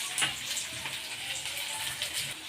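Green peas sauté in a pan for vegetable upma, giving a faint, steady sizzling hiss close by with light bubbling and no voices.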